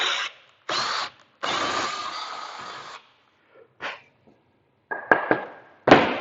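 A handheld power drill boring a hole in wood, whirring in several short bursts of varying length, separated by pauses, with a few clicks and knocks near the end.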